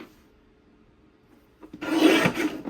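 A paper trimmer blade slicing through a sheet of 12x12 scrapbook paper, near-silence and then a short, close, rasping slide of the cut lasting about a second.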